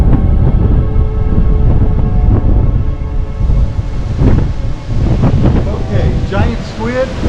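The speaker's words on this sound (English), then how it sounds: "That's windy." Gusty wind on the upper deck of the cruise ship MSC Seashore buffets the microphone in a steady roar, with people talking and other voices underneath throughout.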